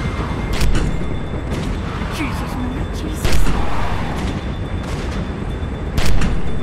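Gunfire in a Walking Dead video game cracks out in a few loud, scattered shots over a dense, noisy rumble, while a voice is heard over the action.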